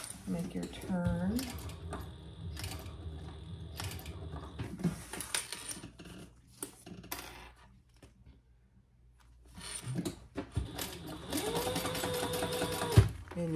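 A sewing machine top stitches fabric for a handbag, rapid mechanical stitching in bursts that start and stop with a short pause in the middle, while someone talks over parts of it.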